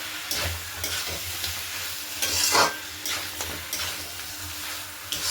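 Mutton being stir-fried with chopped tomatoes in a hot pan, a steady sizzle punctuated by repeated scraping strokes of the spatula, close and moderately loud with no voices.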